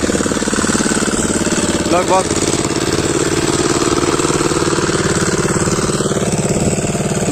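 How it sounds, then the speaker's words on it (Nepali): An old 6 HP diesel tiller, around 12 to 13 years old and about 120 kg, chugs loudly and steadily while ploughing a hillside field, its rapid knocking beat continuous as someone talks over it. "पावर चाहिँ यो डिजेल मेसिन हो"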